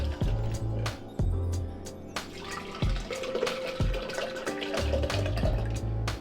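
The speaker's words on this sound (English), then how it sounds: "You want to go 8 to 16 ounces of water." Water poured into a shaker or cup for a pre-workout drink, a close, steady splashing pour with brief pauses and clinks, no talking.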